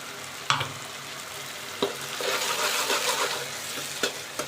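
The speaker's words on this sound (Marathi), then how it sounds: "एक 10 मिनिटं छान असे फ्राय करून घेऊ।" Tomato paste with mustard seeds sizzles softly in a pan, with a steady hiss broken by a few sharp scrapes of a spoon stirring, close and fairly quiet.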